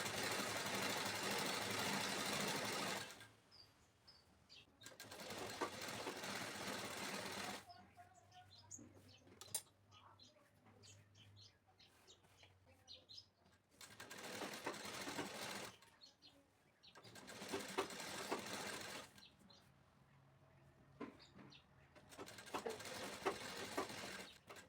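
A sewing machine stitches lining onto a blouse in several loud, whirring bursts of a few seconds each, with quieter pauses between them where someone talks.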